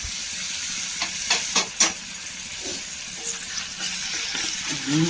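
Crushed onions frying in a pan for a drumstick-leaf upperi give a steady, close sizzling hiss, broken by a few louder stirring scrapes and clinks, with no voices.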